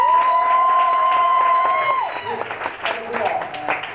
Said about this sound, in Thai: ปรบมือด้วยนะครับ